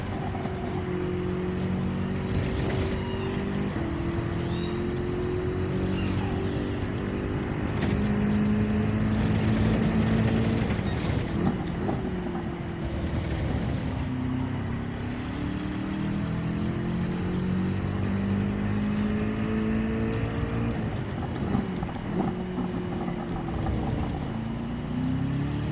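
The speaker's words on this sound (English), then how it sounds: "Got more than enough fuel so we can push the car and the revs" A BMW race car in Gran Turismo 7, running a BMW Cup practice session at Catalunya Barcelona, revs hard in continuous loud engine drone, with its pitch climbing and dropping repeatedly through gear changes and corners.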